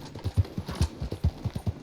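Horse hooves in the Red Dead Redemption 2 video game, a steady rapid clip-clop gait of a Leopard Appaloosa horse, close and clear with no talk over it.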